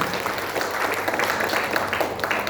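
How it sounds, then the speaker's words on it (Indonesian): Audience applause fills a meeting room of school supervisors and inspectors, a steady dense wash of many hands clapping at once, moderately loud and continuous throughout. "Tepuk tangan untuk kita semuanya"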